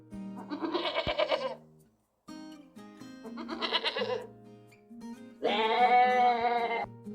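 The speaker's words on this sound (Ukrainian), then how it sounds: "Так мекають кізоньки." Goats bleat three times in succession, each a wavering, nasal call lasting over a second, with short pauses between; close and clear, no talking.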